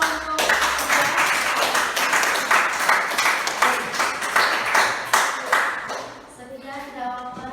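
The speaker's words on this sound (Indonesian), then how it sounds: "Silakan tepuk tangan dulu untuk kelompok." Classroom students applaud a group, a sustained round of many hands clapping in a rhythmic, pulsing pattern that fades out as a voice begins talking.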